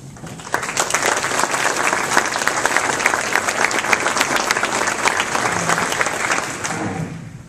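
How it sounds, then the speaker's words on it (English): An audience at a chamber of commerce event gives a sustained round of applause, steady dense clapping for about seven seconds that fades at the end, with no speech over it. "let's give them a round of applause"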